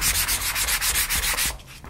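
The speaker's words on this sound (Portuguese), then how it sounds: "Você pode pegar uma lixinha e lixar" Styrofoam rubbed with sandpaper in quick, rhythmic back-and-forth strokes, close and clear for about a dozen passes, then stopping.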